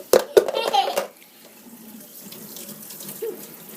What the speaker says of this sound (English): we're just going to take warm tap water